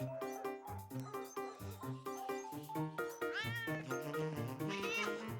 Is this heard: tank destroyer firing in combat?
no